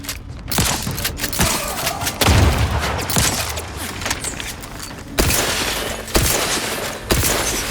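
Gunfire in the video game The Outer Worlds 2 comes as loud volleys of shots and booming impacts. Separate bursts crack out with short gaps between them, over a dense layer of combat noise.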